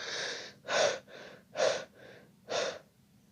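A voice imitates a lion panting heavily, with four loud breathy bursts coming in an uneven rhythm and softer breaths between them, close and without any words.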